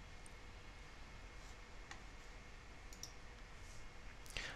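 Computer mouse clicks while drawing a polygon zone shape in software, a few faint isolated clicks over a steady low hiss, with a sharper cluster near the end.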